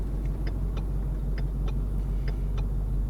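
A 6th-generation Ford Mustang with an MT82 manual transmission runs with a steady low rumble, a noisy gearbox ticking faintly in a regular rhythm over it.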